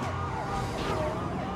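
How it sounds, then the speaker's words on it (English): A police car siren wails during a high-speed pursuit. It is loud and continuous with wavering tones, mixed with road and engine noise. "hope their flashing lights and siren will be"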